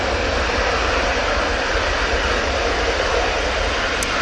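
Jet airliner engines at Manchester Airport roar loudly and steadily, a close, powerful continuous rumble and rush without pause.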